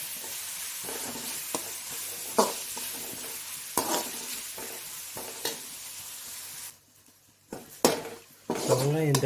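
Sliced onions browning for a brinjal and field bean gravy hiss steadily in a pan as a spatula scrapes and taps against it, the sizzle dipping briefly near the end before returning.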